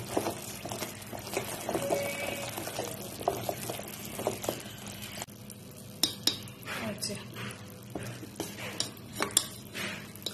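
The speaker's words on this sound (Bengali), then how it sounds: "ভালো করে রসের মধ্যে একটু নেড়ে চেড়ে নিচ্ছি" Fried goja is being stirred in sugar syrup, with a ladle clinking and scraping against a metal pot in irregular bursts over a soft bubbling background. The sound is moderately close and fairly quiet.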